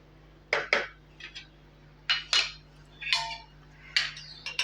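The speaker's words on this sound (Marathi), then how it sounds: "आता आपण ह्याच्यावर परत एक झाकण ठेवूया" A lid is set onto a cooking pot of sweet vari rice sheera with jaggery and coconut, giving a short run of close metallic clanks and rattles as it settles.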